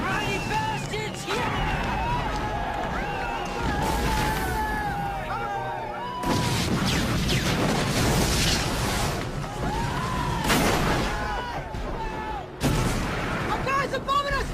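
Bombing and artillery fire in a battlefield scene: repeated booms and bursts of gunfire under shouting voices, sustained and loud throughout.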